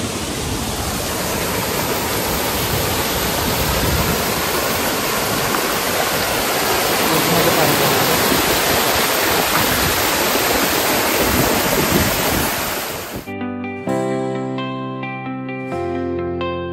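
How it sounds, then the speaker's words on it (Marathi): Waterfall roaring as a steady, loud broadband rush of falling water, close and continuous for about thirteen seconds before cutting abruptly to tonal music. "and this is waterfall"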